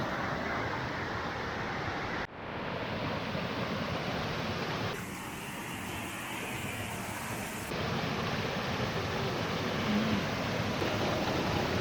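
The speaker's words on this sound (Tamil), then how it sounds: "இந்த தண்ணி தான் வந்து கீழே வந்து அந்த ஃபால்ஸில் கொட்டுது." Floodwater pours down into a waterfall in Andhra after the 2021 floods, a steady loud roar of rushing water mixed with wind buffeting, continuous throughout with brief dips and no speech.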